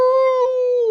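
A creature howls as a sound effect in a bedtime story, one sustained, steady tonal cry close up and alone, slightly falling in pitch at the end.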